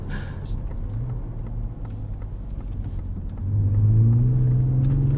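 Steady road rumble and low tire roar from a 2024 Ford Ranger Raptor pickup driving, swelling louder partway through as it speeds up.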